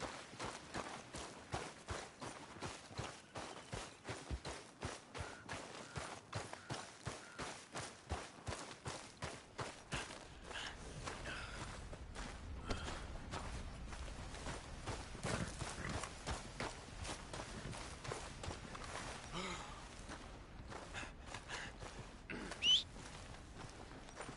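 Horse hooves clip-clop in the video game Red Dead Redemption 2, a steady rhythmic trot of close, distinct hoofbeats at first, turning into a busier, blurred gallop with outdoor ambience in the later half.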